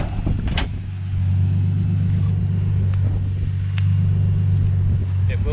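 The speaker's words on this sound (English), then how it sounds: "Oh, it's turbo, but doesn't sound bad for a Barra." A turbocharged Ford Barra engine swapped into a Ford AU with a Fairlane front end runs nearby, a steady low idling rumble with slight rises, while people talk over it.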